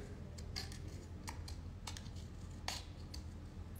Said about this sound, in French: On peut le faire avec les ciseaux.